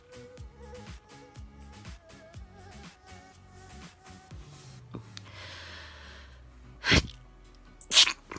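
A person lets out two sharp, explosive sneezes in quick succession near the end, after a stretch of soft breathing and faint tonal background sounds.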